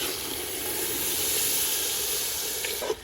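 Water poured onto rice frying in a pot for a village-style yellow rice dish, producing a loud, steady hiss of steam and sizzling close by, with a small clatter at the end.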